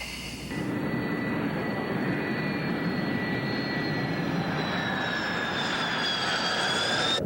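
F/A-18 Hornet jet engine: a loud, steady, continuous roar with a high whine that rises through the final seconds, heard alone with no talk.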